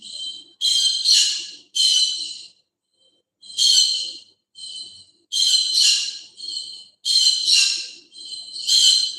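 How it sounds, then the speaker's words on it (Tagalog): A bird nearby gives loud, shrill squawks and whistles in repeated bursts, with a few short pauses between calls. "Maingay yung ano, ibon ko"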